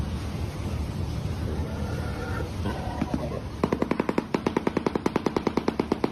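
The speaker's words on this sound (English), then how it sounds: "They make 50 caliber machine gun noises?" A rapid burst of 50 caliber machine gun fire from Factorio Space Age hammers out evenly spaced loud shots in the second half, following a stretch of rumbling game noise.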